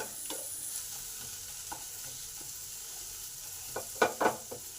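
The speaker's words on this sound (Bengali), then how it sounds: "এই সমস্ত মশলা এই টমেটোর সাথে ভালো করে কষে নেব।" Spices frying with tomato in a pan for a peas dish, a steady close sizzle with a few scraping stirs near the end.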